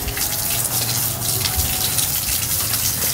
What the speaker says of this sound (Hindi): तो अब पानी लगाया जा रहा है इसको भी।